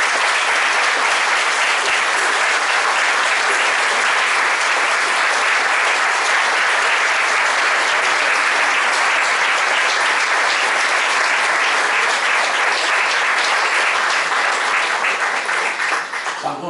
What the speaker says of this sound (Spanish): te damos un aplauso porque te lo veo